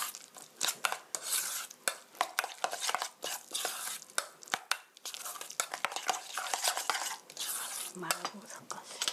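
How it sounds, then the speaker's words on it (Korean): Guacamole being mixed in a bowl with a utensil, a brisk series of wet scraping and clinking strokes in uneven rhythm, close and fairly quiet. "이렇게 골고루 섞어주시고요"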